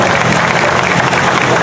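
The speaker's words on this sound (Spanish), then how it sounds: "¿Dónde está el aplauso para José Antonio Aznar?" An audience at the Gran Canaria historic rally in Teror applauds rally driver José Antonio Aznar, a dense, loud, continuous wash of clapping with no gaps.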